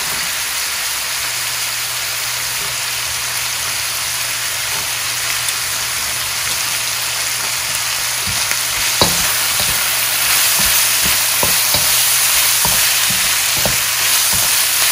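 Carrots sizzle in hot oil in a pan while cooking sweet and sour fried tilapia, a steady close frying hiss broken by occasional clinks and scrapes of stirring.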